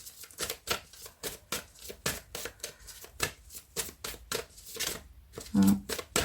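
Tarot cards being handled and cut by hand: a rapid, uneven run of crisp card flicks and slaps, close and continuous for several seconds, with a faint voice briefly underneath.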